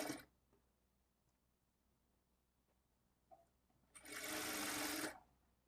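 A sewing machine joins piping-cloth pieces for boutique-style thread piping. After near silence with faint clicks, it runs in one loud, close burst of stitching lasting about a second.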